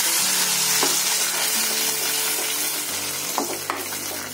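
Tomato paste sizzles in a hot pan with bay leaf and fried spices for no-onion, no-garlic chole, a steady close crackling hiss with a few sharper spatters near the end, no voices.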